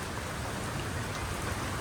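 Steady rain falls on hard surfaces nearby, a dense, even patter with no other sounds over it.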